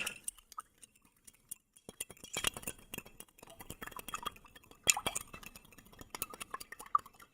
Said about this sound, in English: And we'll stir this up. Everybody stir your Tang up.